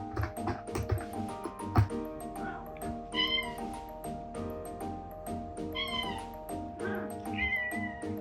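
A rescued former stray cat meows several times, drawn-out and clear, rising over soft background music that runs throughout.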